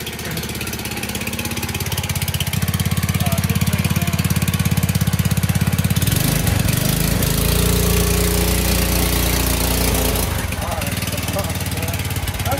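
An abandoned 1980s MTD mini bike with a Tecumseh small engine idles with a steady buzzing thrum, then the pitch shifts and wavers midway as the engine speed changes, loud and near, with people talking over it.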